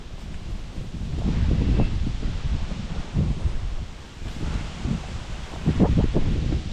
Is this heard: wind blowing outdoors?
yes